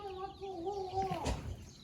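Chicken clucks and a short drawn-out call from a nearby hen among chicks in a mountain village, with a brief rustle or bump partway through; a faint voice may sit underneath.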